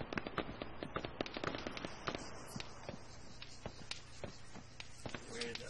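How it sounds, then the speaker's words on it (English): Artillery fire in an Arma 3 town assault, with dense, rapid cracks and thuds in quick succession over a steady rumbling background. Booms come from varying distances, and voices can be heard faintly under the barrage. "Just be aware there is artillery incoming."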